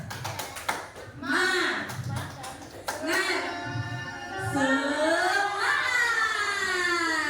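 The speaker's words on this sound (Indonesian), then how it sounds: "Oke, tepuk semangat." A group at a school positive-culture dissemination session does a rhythmic spirit clapping chant: a run of sharp, close hand claps in a quick pattern, followed by voices chanting together.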